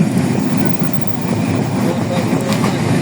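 Train rolling through rural Bengal past mustard fields, heard from inside a carriage as a continuous loud rumble and rattle of wheels on rails, with a voice faintly mixed in.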